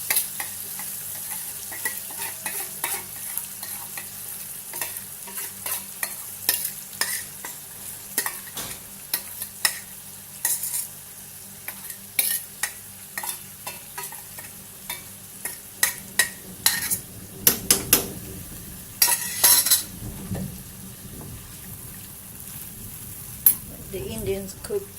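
Curry mix frying in plenty of oil after mustard seeds have popped for a chicken and moringa drumstick curry, heard as sizzling under frequent scraping stirs and spoon clinks, growing busier and louder toward the end.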